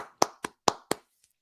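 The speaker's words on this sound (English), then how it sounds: "Everybody give an applause out there." Four sharp hand claps land in quick succession, close and isolated, followed by a brief quiet tap.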